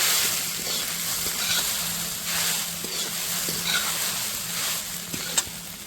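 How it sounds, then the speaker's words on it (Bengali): Sago pearls are stirred in hot oil in a pan, giving a steady, close frying sizzle with light scraping stir sounds throughout and no one speaking. "এবার আমি সাবুদানাটা দিয়ে দেবো তেলে খুব ভালো করে নাড়া দিয়ে নেব"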